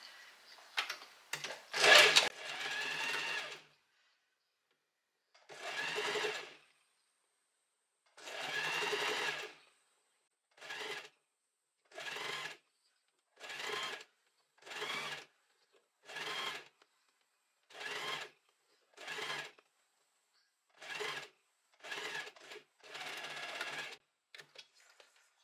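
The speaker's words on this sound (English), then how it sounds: "then we're going to start sewing here all the way to the other end" A sewing machine stitches along a fabric edge folded about half a centimetre, running in a long burst followed by many short, evenly spaced runs with silent pauses between, close and clear.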